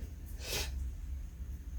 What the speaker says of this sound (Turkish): Bu arada kusura bakmayın burnumu çekiyorum.